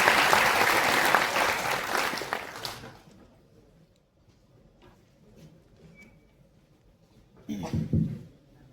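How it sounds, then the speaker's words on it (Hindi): Audience applause welcomes a speaker onto the stage at a campus orientation programme, a loud clapping burst lasting about three seconds that trails off into room quiet before a brief shuffling thump. "जोरदार तालियों से स्वागत कीजिए"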